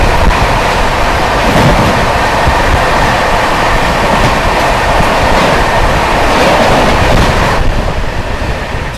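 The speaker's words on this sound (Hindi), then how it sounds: "सामने से आती है पूरी आनंद नंदन कानन।" The Anand Nandan Kanan Express passes close by another moving train, a loud, dense rush of wheels, rattling carriages and wind that holds steady throughout, with faint rhythmic clatter and no voices.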